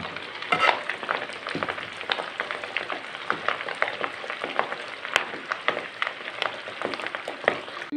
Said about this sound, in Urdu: کفتوں کو ہم نے اچھے طریقے سے فرائی کرنا ہے، ڈیپ فرائی کرنا ہے